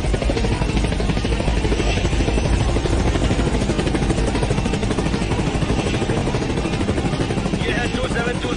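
An aircraft taking off in a Hollywood movie dubbed into Hindi, a loud, constant engine roar with rapid throbbing filling the whole stretch, close and unbroken.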